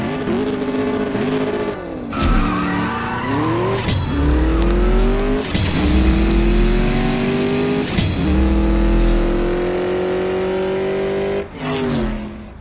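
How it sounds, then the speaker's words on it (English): A Hennessy Venom GT in the racing game CSR Racing 2 screams through rising revs, with sharp drops at each gear change and a roaring, loud engine note climbing again after every shift. "we need to race in a Hennessy Venom GT"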